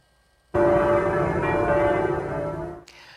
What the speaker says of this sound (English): Church bells were ringing all over France last night